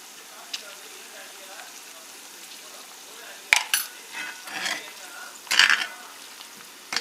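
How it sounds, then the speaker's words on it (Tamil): Onion and ginger garlic paste frying in a pan for a spicy fish fry, a faint steady sizzle with a few louder stirring scrapes and clatters in the second half. "இஞ்சி பூண்டோட பச்சை வாசனை போகிற வரைக்கும் நல்லா ஃப்ரை பண்ணிடுங்க"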